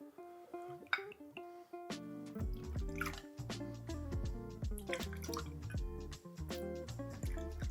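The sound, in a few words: pouring clarified Paloma cocktail to measure it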